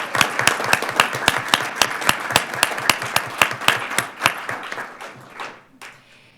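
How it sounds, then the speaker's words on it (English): Applause at a school board of education meeting: a small group clapping in fairly regular, distinct claps that gradually thin out and fade to a stop. "One more round of applause before you're heading out."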